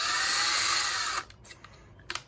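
A drill bores into rock to make a bead, giving a loud, steady high-pitched whine that cuts off after about a second, followed by a few faint clicks and knocks.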